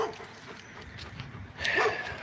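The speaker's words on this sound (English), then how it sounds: "They always bark at us when we go by." Dogs behind a roadside house bark at people walking past, several yips and barks heard at a middle distance, with a louder burst near the end over outdoor background noise.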